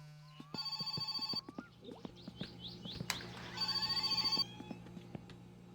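A synthetic telephone ring in the game My Summer Car sounds in two bursts, separated by chirpy electronic blips, clicks and a sharp crash, with a low hum underneath.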